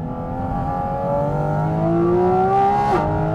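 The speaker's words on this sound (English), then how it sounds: "I don't think I've ever heard a road car scream in such a way" A Porsche 718 Cayman GT4 RS engine screams at high revs while accelerating on the road, a loud rising wail that climbs steadily, drops briefly at a gear change, then climbs again.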